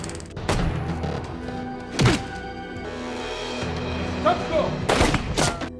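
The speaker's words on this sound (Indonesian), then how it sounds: "Kemudian baku tembak pun terjadi" Gunfire in a shootout from an action film, several sharp, loud shots spaced a few seconds apart over a steady background score, with a voice narrating over it.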